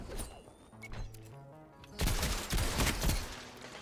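Rapid bursts of sniper rifle gunfire in the video game Destiny 2 during a PvP match, loud dense shots crowding the second half after quieter game effects and tones at the start.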